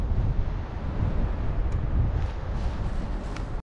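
Steady south wind over the mountains of Crimea buffets the microphone during a paragliding flight, with a loud, low rumble that continues without a break until it cuts off abruptly.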